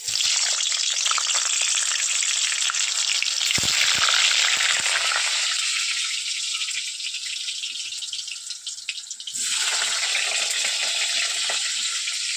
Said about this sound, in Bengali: আলুগুলো এবারে ভেজে নিই। তেলটা গরম হয়ে গেছে কড়াইতে